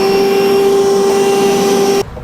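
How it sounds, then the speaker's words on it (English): A shop vacuum sucks debris out of an upturned, freshly drilled tail light, giving a loud, steady high-pitched whine for about two seconds before it abruptly cuts off. "use our vacuum to get it out."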